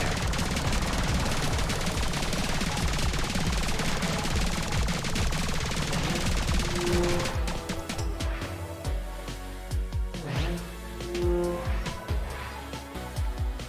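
Rapid-fire gunshots from a power-up in the rhythm shooter Rhythm 'n Bullets blast in a dense, loud barrage, then give way to sparser punchy shots mixed with the game's music and effects.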